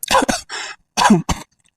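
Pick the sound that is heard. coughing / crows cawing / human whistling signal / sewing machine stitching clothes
coughing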